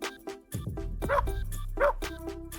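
A small brown dog gives several short, high yips and barks in quick succession, close by, with a low whimper between them.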